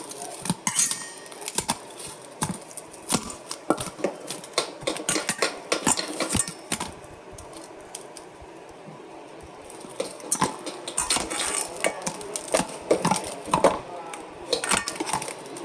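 Repeated wooden scraping and knocking, irregular and fairly close, as boiled potatoes are mashed in a pot for bonda, with clinks of utensils throughout.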